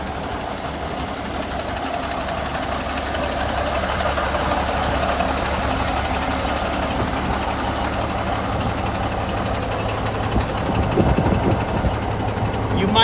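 A 1980 Marmon cab-over truck with a Cummins diesel engine idles nearby, a steady low rumbling knock that runs throughout, with someone talking over it.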